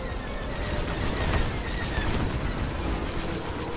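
Dense, continuous battle noise from the Star Wars: Squadrons video game, with rumbling booms and sharp bursts of enemy cannon fire layered throughout, loud and steady without a break.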